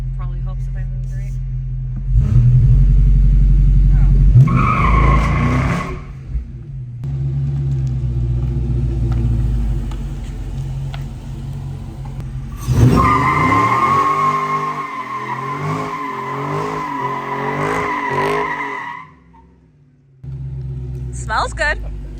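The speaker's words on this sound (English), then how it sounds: "To launch brake, press brake and quickly apply the throttle." Dodge Charger Scat Pack launching: the engine revs loudly, falls back, then surges again with a long howling tire skid before cutting off, close by, with voices talking.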